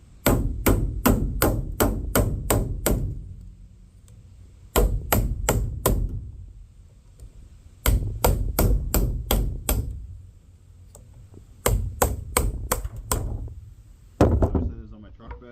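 Rapid bursts of sharp metallic hammer blows on a punch against a Ford F350 drive shaft support bearing, about five to eight strikes per burst, repeating in four groups with short pauses between, loud and close.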